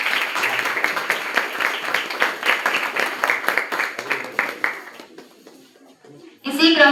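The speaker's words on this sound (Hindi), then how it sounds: "सर के लिए जोरदार तालियां।" A crowd at a school celebration gives dense, rhythmic applause for the principal, loud at first and then fading. A voice cuts in near the end.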